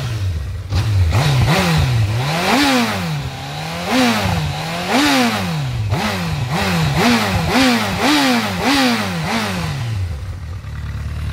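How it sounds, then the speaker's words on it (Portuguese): A Honda CB1000R motorcycle on its original exhaust is revved repeatedly nearby, each throttle blip rising and falling in a steady series of deep, full-bodied surges. "antes deixa eu mostrar aqui o ronco da moto para vocês, né? Escuta o ronco,"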